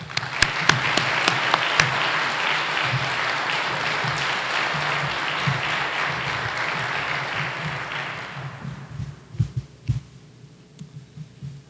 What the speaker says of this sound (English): please help me with a round of applause, introduce our new women's head basketball coach